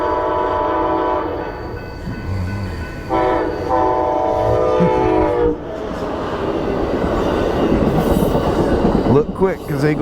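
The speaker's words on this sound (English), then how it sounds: "You got yourself a train." A Pan Am Railways train passes close by, its horn sounding in long steady blasts over the rumble and clatter of wheels, which grows louder and grittier as the cars roll past.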